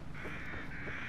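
A crow caws once or twice in The Evil Within, a short harsh call set against a continuous game ambience, with no voices.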